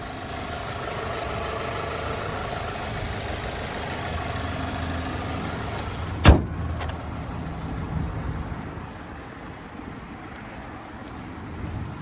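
A 2017 Mazda 6 Grand Touring's 2.5-liter four-cylinder engine idles with a steady, even hum heard from close by, broken once by a single sharp click near the middle before the drone carries on slightly quieter.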